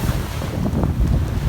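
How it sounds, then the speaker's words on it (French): Wind at sea aboard a sailboat making about 12 to 13 knots of breeze, a loud close roar of wind buffeting the microphone over the wash of water along the hull. "on a trouvé le vent. Là, on a du 12-13 nœuds à 60 tribord."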